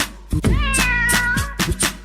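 A cat meows in a children's song, a single drawn-out, clear meow rising and falling over sung accompaniment, loud and close.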